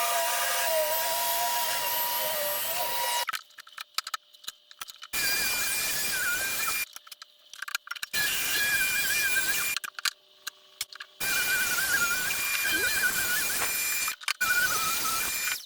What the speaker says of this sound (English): So the first thing I'll do is rip each one of them to 8 inches wide.